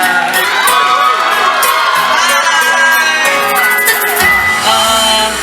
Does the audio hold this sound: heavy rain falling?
no